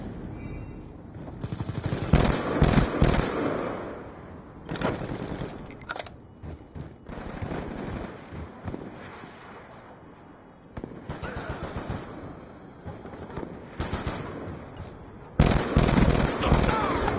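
Bursts of gunfire in the shooter Black Ops 2, several loud rattling volleys separated by quieter gaps, with game effects and players talking over parts of it.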